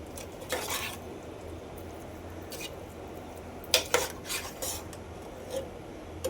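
A spoon stirs grated carrots with milk in a pan for gajar halwa, making scattered scraping clinks of metal on metal over a faint, soft sizzle, with no talking.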